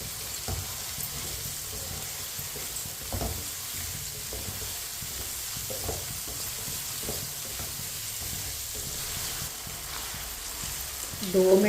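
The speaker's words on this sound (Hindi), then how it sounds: "आलू को भी 2 मिनट के लिए पका लेंगे।" Potatoes and peas cooking in a pot for aloo matar pulao give a steady, even sizzle with occasional soft stirring knocks, heard close throughout, with a slightly louder clatter right at the end.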